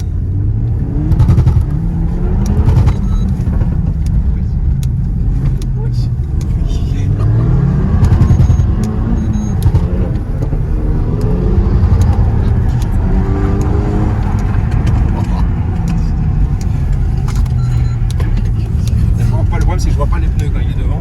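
Renault Mégane 4 RS engine revving and surging during drifting, a loud, steady in-cabin roar rising and falling under continuous talk from people on board.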